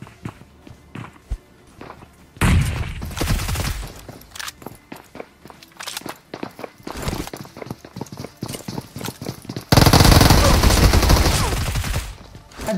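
Gunfire from an MK rifle in the PUBG Mobile video game, heard as bursts of sharp shots amid rapid footsteps and dense game effects, with two loud sustained stretches of noise.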